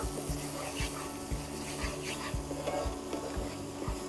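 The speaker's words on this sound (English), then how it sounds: "So now we keep going and keep stirring around 5 to 8 minutes." A mixture cooking slowly in a pan is stirred with regular, rhythmic scrapes over a soft continuous sizzle, close and moderately quiet.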